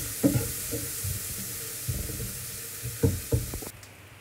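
Green chillies and chopped onion fry in oil in a pan with a continuous close sizzle. Several knocking, scraping stirs of a spatula interrupt it.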